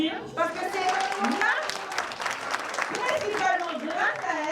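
An audience at an Antillean-themed evening party claps for Laura, with steady applause close by under a man's speech throughout.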